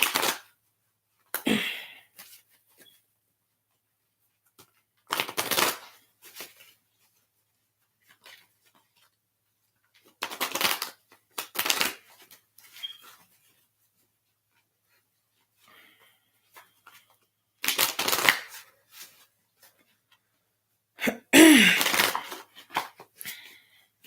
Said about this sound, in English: These cards are kind of bent inward, so it's making it hard to shuffle them.